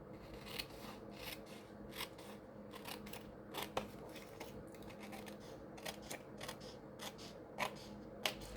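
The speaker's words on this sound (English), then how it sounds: "I'm gonna trim off this border right here." Scissors trimming the paper border off a printed stadium picture, a quiet series of snips and crisp paper rustles at an uneven, unhurried pace, heard close and alone with no talking.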